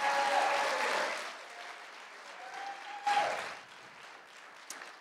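A recovery group audience applauds after a teaching session, clapping that starts fairly full and gradually thins and fades, with a brief swell partway through and a faint voice near the end.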